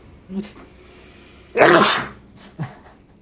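A single loud, sharp sneeze bursts out close by, with faint breaths and small vocal sounds before and after it.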